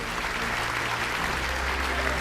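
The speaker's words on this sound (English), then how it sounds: "if you could send them off with a rousing round of applause" A hotel breakfast crowd at the 2008 NRL Grand Final Breakfast in Sydney applauds, a steady, somewhat distant wash of clapping over a low room hum.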